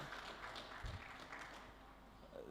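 Applause from a conference audience at a national dispute resolution summit as a Justice of Appeal walks to the front, a steady wash of clapping that holds across the whole stretch without a break.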